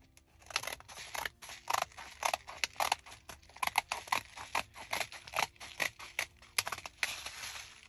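Scissors snip repeatedly through paper while cutting around Christmas gift tags for a craft project, a quick irregular run of close, crisp cuts with brief pauses between strokes and no talking.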